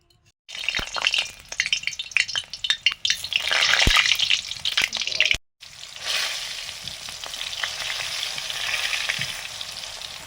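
Potatoes frying in mustard oil, a loud crackling sizzle with stirring scrapes, a brief dropout, then a steady hiss continuing to the end.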